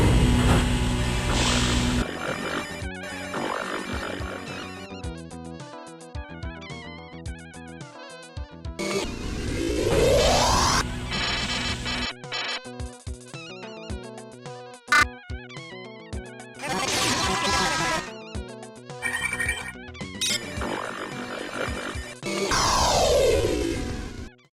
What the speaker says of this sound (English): Otherwise, the game is going to sound like this.